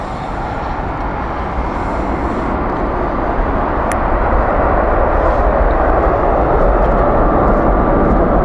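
An airliner landing at Heathrow Airport rumbles as a loud, broad roar that holds steady and swells slightly toward the end, with no voices.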